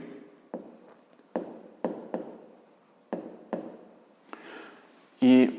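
Handwriting on paper during a fifth-grade maths lesson, a series of close, quick scratchy pen strokes in short bursts with pauses between, ending in a brief louder squeak or thump.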